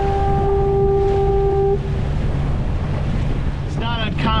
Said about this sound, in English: the wind's up quite a bit now that we're in Hurricane Gulch